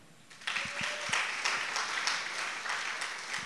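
Audience applause at a church gathering on parenting and discipline, a broad wash of clapping that starts abruptly and holds steady at moderate loudness with no talk over it.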